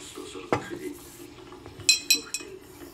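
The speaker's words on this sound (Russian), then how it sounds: "Костя, Ева, вот эту всю посуду мойте сами" Dishes and cutlery clink and clatter nearby in a few sharp bursts, with a faint voice in the background.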